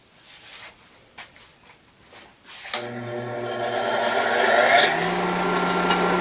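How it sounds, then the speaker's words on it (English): A disc sander deburring sharp-edged metal parts starts up after a few quiet knocks and handling sounds, then runs with a steady whirring, rising grinding rasp that grows louder as the metal is pressed against the disc. "I'm going to get rid of that using the disc sander there"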